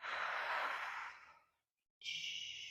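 A long, audible exhale during a mobility stretch aimed at touching the toes, a soft breathy sigh fading out over about a second and a half, followed by silence and then a brief faint breath.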